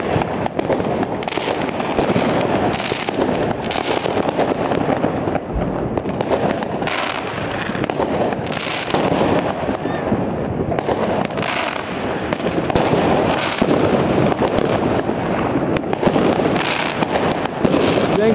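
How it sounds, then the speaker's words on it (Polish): Dense New Year fireworks over the Stogi district of Gdańsk, an unbroken run of loud bangs, crackles and rocket bursts, some near and some farther off, overlapping continuously for the whole stretch with no talk. "No, fajerwerków nie brakuje nam."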